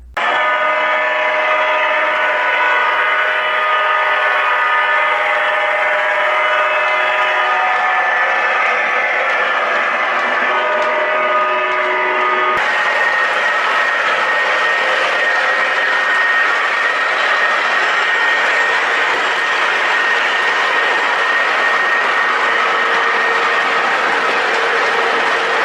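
Lionel and MTH O gauge model trains running on a home layout produce a loud, continuous electric hum and rumble with steady tonal whine, shifting character partway through, no voices.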